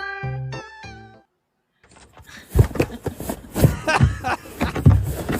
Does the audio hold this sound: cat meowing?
yes